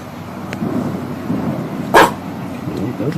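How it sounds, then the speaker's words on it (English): Dogs bark somewhere outdoors over a steady background rumble, mostly faint and distant, with one sharper, louder bark standing out midway. "Those dogs are barking."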